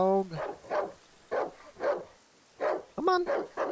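A dog in the horror video game Darkwood barks repeatedly in short, evenly spaced bursts, close and fairly loud, with a higher yelping whine near the start and end.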